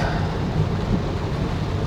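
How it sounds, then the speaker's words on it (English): Heavy rain falls steadily in open countryside on the outskirts of Cologne, Germany, a dense, loud, continuous wash of noise with no breaks. "and absolutely crazy rain"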